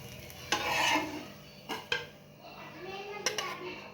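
A green mung bean dosa is flipped and lifted off a hot pan: a few scraping spatula clacks over a low sizzle, close and moderately loud.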